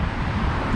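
Cold, strong wind blusters by the Hillsborough River on Riverside Drive, a brief, steady low-pitched buffeting against the microphone with nobody talking.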